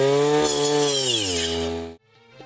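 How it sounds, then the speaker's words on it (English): A motorized weeder fitted with a circular blade prunes mulberry plants, its engine buzzing loudly with a strong tonal drone that drops slightly in pitch, then cuts off sharply near the end. "Weeder is being used by attaching this special circular blade for this purpose."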